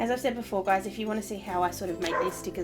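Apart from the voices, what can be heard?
dog barking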